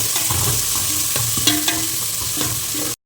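Chopped onions and cumin fry in a pan for a Tamil Nadu style fish curry, a loud, close sizzle with repeated scraping stirs and utensil taps, and no speech.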